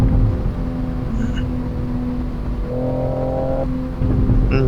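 A car engine holds a steady high drone at top gear in a Shutoku night racing video game in the rain, with tonal hum shifting slightly in pitch as it speeds along.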